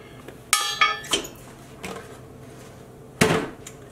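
Utensil clinking against a pot while stirring vinegar into food coloring dye for dip dyeing a silk scarf; a few sharp close knocks and clinks separated by quiet pauses.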